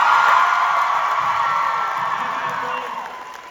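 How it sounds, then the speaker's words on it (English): Audience at a fan convention stage event in Burbank claps, whoops and cheers for a performing pair, a dense crowd roar that starts loud and slowly fades over a few seconds, with some voices in the mix. "A big round of applause for Shenanigans and Misa Common."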